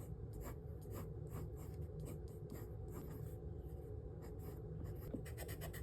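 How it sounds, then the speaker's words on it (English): A pencil sketches on the first page of a new sketchbook. It makes soft, close scratching strokes in a steady rhythm of short bursts, quiet and with no voice. "Let's just draw."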